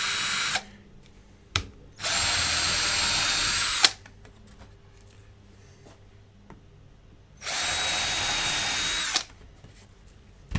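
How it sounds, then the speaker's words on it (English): Power drill boring small holes into the backing of a floater frame for a canvas painting, three loud, sustained whirring bursts of a second or two each, separated by quiet pauses with small clicks. "So we're just going to go around and drill some little holes here."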